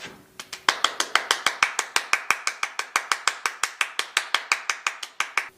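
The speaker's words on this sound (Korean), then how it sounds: "우리 있는 자리에서 큰 박수를 쳐줍시다" Children at a church service clap for a friend's birthday in a tight, evenly paced rhythm, about two dozen crisp claps in a row, close and clear with little else around them.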